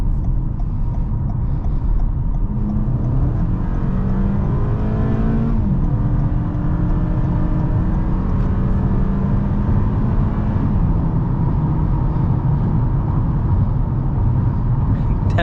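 A 2024 Toyota Camry engine drones loudly and continuously while accelerating onto a highway, its pitch climbing and dropping with gear shifts over steady road and wind noise.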